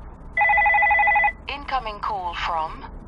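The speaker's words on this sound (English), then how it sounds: "when a call does come in, it simply rings and lets you know who's calling" A Parrot Mini Kit Neo 2 Bluetooth hands-free car kit rings for an incoming call with a steady, pulsing electronic tone lasting about a second, followed by a voice speaking.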